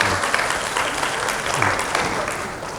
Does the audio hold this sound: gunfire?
no